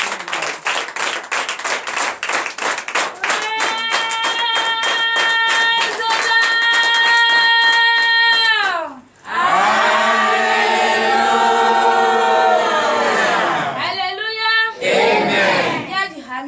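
A congregation at a night deliverance and prophecy church service claps in a fast steady rhythm, then loud sustained voices and music swell in acclamation and fill the room.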